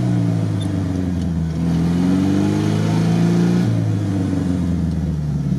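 The engine of a GAZ-67 military vehicle drones steadily nearby as it drives, its pitch shifting slightly with load, a continuous loud hum with no voices over it.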